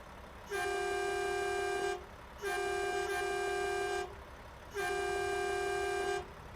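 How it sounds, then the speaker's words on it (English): Three long blasts of a deep Mack Anthem truck horn with a slight train-horn tone in American Truck Simulator, each about one and a half seconds, evenly spaced over a quiet engine idle. "I like the fact that it's got a slight train horn sound to it."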